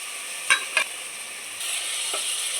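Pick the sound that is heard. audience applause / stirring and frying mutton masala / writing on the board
stirring and frying mutton masala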